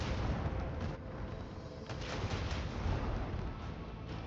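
Plasma torpedoes strike a big ship in the Warhammer 40k: Rogue Trader video game. A dense, continuous roar of heavy booming impacts and explosions rumbles on throughout, with no voices.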